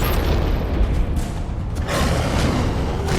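A thrown gas canister exploding in the video game Prototype 2 makes a loud, dense booming rumble that fills the whole stretch, with a fresh burst of blast noise near the end.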